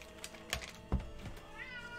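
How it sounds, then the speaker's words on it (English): A house cat meows a few times, short close cries spaced across a couple of seconds with a faint knock or thump, no talking. "I need to go talk to my cat."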